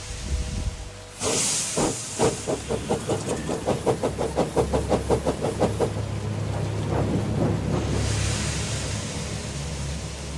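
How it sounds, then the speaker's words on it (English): Steady rain hisses throughout, with a run of rhythmic, heavy thumps rising in the middle before the downpour carries on alone. No voices. "By the time they arrived, it was already raining."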